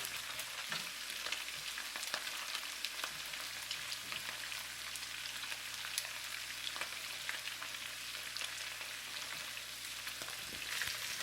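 Kung Pao pork spare ribs fry steadily in a hot pan, a dense continuous sizzle with crackling pops and a low hum running underneath throughout.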